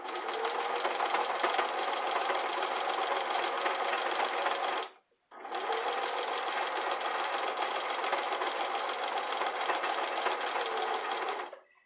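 A sewing machine stitches twisted fabric into a basket in two long continuous runs with a brief stop between, a loud, close, even mechanical whir with no talking.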